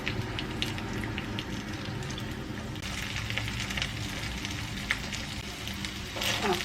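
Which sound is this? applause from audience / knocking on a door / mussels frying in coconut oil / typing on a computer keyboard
mussels frying in coconut oil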